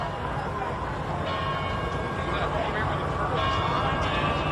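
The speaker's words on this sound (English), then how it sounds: "let's listen as the bells ring" Church bells ring and toll at St. John's Church during a 2001 presidential inauguration day service, their rhythmic peals under crowd noise and a continuous voice.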